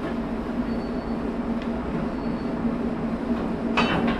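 A museum train sits with its locomotive being coupled on a warm day: a steady, fairly close engine rumble and hum runs throughout, with a brief clanking burst near the end.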